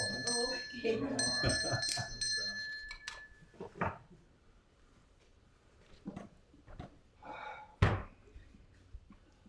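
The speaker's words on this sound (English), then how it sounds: "It doesn't seem right if I don't ring the bell." A bell rings a few times near the start, bright and sustained, followed by scattered knocks and clunks with people talking in between.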